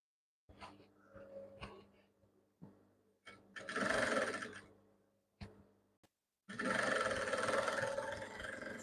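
Home sewing machine running in short bursts and then longer stretches while stitching the collar of a kimono with side ruche and pockets, close and fairly loud, with pauses of quiet between runs.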